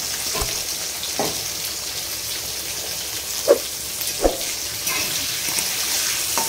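Capsicum frying in a pan for mixed fried rice, a steady close sizzle and hiss with a few soft scraping taps from stirring.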